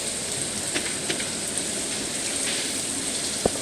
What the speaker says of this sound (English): But today is rainy.